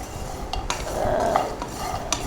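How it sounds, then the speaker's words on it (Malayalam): Pistachios are dry-roasted in a pan without oil, with a steady low rustle and scattered light clicks as the nuts are stirred and tossed against the hot metal, close by. "നമ്മൾ പിസ്ത ഒരു പാത്രത്തിലിട്ട് ഡ്രൈ റോസ്റ്റ് ചെയ്ത് എണ്ണയൊന്നും ഒഴിക്കാണ്ട്"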